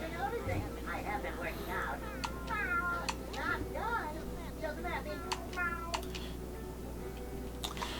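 A snail character in SpongeBob Battle for Bikini Bottom meows like a cat, a run of short, high mewing calls over steady game background ambience and a low hum.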